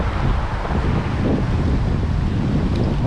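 Strong wind buffets the microphone on a windy night beside a salmon river, a constant loud roaring rumble that never lets up, with no one speaking.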